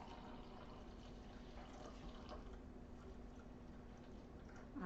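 Japanese sencha tea is poured into a glass, making a faint, steady trickle of liquid. The soft pouring continues for about five seconds with no talk.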